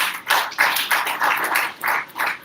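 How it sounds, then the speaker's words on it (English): Audience applause for a human rights network's executive director at a live-streamed event, a burst of clapping from a modest crowd, fairly close and rhythmic in uneven waves, with no talking. "A round of applause, please."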